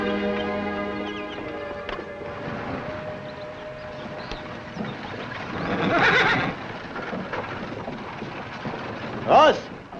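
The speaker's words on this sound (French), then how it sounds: "Ce cheval est doux à la bride." A horse neighs loudly near the start of a Western drama scene, with a softer whinny later. Hooves clip-clop beneath, and people speak over the scene.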